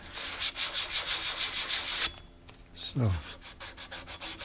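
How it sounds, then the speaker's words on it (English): Hand sanding of an old brass door handle with 320 grit sandpaper: rhythmic rubbing strokes, close and steady, a brief pause partway through, then the strokes resume. "Now we go to the 320 grit."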